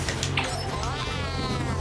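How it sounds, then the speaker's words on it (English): Birdo, the character in Mario Kart Wii, gives cat-like meows, a few high, sweeping, wavering calls in quick succession, loud and close over a faint game background. "Birdo, she's like a little kitty instead of her usual dinosaur self."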